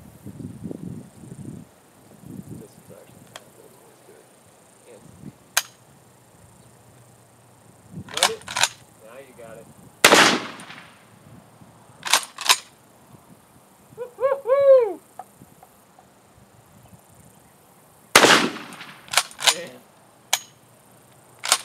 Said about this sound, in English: how about some 12 gauge birdshot out of the Winchester?